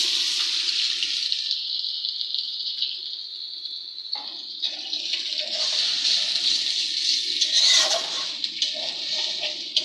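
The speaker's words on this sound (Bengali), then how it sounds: "এখন আমি পরিমাণ মতো পানি দিয়ে দিব।" Water is poured into a frying pan of sautéed green tomatoes, giving a close, steady gushing and splashing rush that runs unbroken for several seconds, shifting slightly in tone as the pour continues, with no voices.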